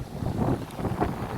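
Gusty wind rumbles against the microphone at the Saline-les-Bains beach on Réunion, a steady, dense roar swelling slightly in places over a short stretch, with no talking.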